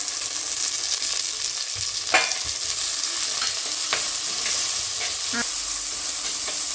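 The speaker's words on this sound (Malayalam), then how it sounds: "നമ്മൾ ഉള്ളി ഇഞ്ചി വെളുത്തുള്ളി ചതച്ച് വെച്ചത് ഇടാം" Crushed onion, ginger and garlic fry in a pan for a fish curry, giving a steady, loud sizzle with a few clinks of a spoon or spatula against the pan, and no talk.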